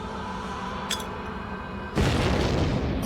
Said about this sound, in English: The explosion is the last action of one Taliban fighter's life.